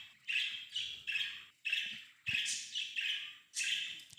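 Birds chirp in a series of bright, repeated calls coming in regular bursts about every half second, fairly clear and near against a quiet background with no voices.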